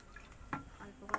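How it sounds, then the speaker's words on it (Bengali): A small splash of water poured into a spice mix of chilli and coriander powder, heard as a few faint, brief drips and trickles, soft and close. "অল্প করে জল নিলাম"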